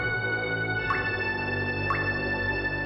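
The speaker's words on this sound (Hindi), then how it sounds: "अगर 1 सेकंड में पानी की 2 बूंद गिरती हैं" Water drops fall at a steady rhythm, roughly one each second, each giving a clear bright plink over a sustained tonal background hum.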